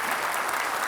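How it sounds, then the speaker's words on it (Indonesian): Dense, continuous applause from a studio audience at a televised Jakarta gubernatorial election debate, loud and sustained for a short burst with no speech. "kita beri tepuk tangan untuk Pak Basuki Cahayapurnama"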